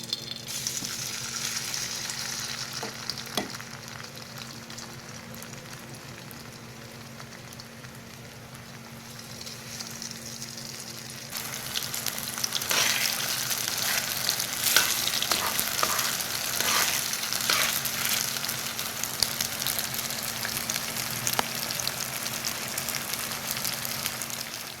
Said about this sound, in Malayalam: ഇനി നമുക്ക് ആ എണ്ണയിൽ തന്നെ നമ്മുടെ ഗോബി കുറച്ചായിട്ടിട്ട്